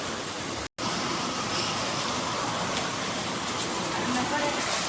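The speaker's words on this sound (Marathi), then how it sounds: "एवढा पाऊस पडतोय" Heavy rain pours steadily as a dense, constant hiss for the whole stretch, broken only by a brief silent gap early on.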